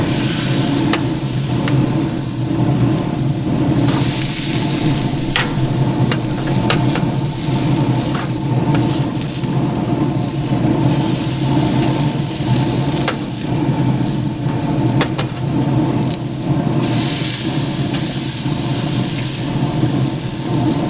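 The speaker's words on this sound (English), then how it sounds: "going to put the steaks on" Filet mignon steaks on a Green Mountain Grills pellet smoker heated to 500, giving a steady broad sizzle and hiss for about twenty seconds. Small clicks and taps are scattered through it, and no one talks.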